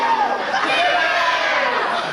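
A wrestling arena crowd roars and shouts in a dense, loud wash of voices, with cheers and jeers blending together for a couple of seconds.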